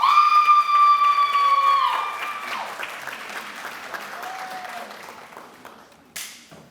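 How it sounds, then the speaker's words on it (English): Audience applauding at a spring master's hooding graduation ceremony, a dense steady wash of clapping that fades gradually, with a tonal ringing at the start and a short burst near the end. "a round of applause for all of our graduates"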